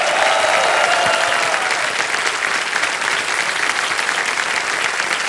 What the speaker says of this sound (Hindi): तालियां बजते रहते हैं।